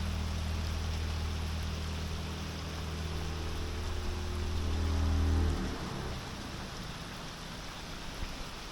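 Rain falls on a sailboat and is heard from the sheltered cockpit as a steady, even hiss, with a low hum underneath that fades out midway.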